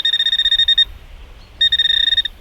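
A metal detector pinpointer beeps fast and high-pitched in a steady pulsing rhythm near sand, pausing briefly before resuming, close and clear with no talking.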